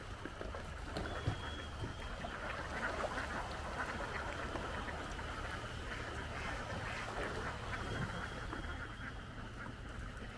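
A large flock of ducks being driven across a field, thousands of birds quacking continuously in a dense, overlapping chorus, moderately distant and steady throughout.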